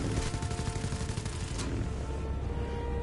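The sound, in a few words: aircraft cannon firing like machine gun in video game War Thunder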